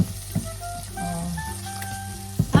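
Tomato and onion sautéing in a pan for an omelette make a steady, moderate sizzle, with a few stirring knocks near the start and end and no voices.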